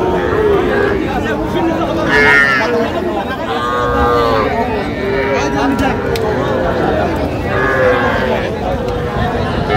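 Cattle, including young bulls, mooing and lowing repeatedly amid a busy crowd hubbub, with people talking and haggling prices throughout at a livestock market in Bangladesh.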